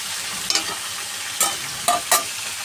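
Turmeric frying in oil in a pan before greens are added, a steady close sizzle broken by a few sharp stirring scrapes and clinks.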